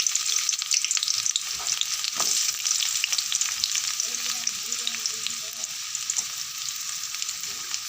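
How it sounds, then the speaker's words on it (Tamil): Small onions sauté in hot oil in a pan for a sardine fish curry, giving an even, close crackling sizzle throughout with faint clinks from stirring and no voices. "சின்ன வெங்காயத்தை நல்லா வதக்கிக்கலாம்."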